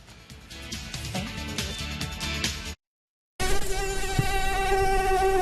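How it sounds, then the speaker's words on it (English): Close, steady mosquito buzzing, a high thin whine that cuts out for a moment of silence and then returns just as loud. "Got mosquitoes?"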